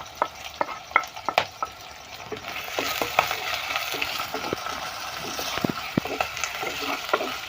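Small onions fry in oil in a pan for a fish curry, a continuous close sizzle broken by repeated sharp spoon clinks and scrapes of stirring, no talking.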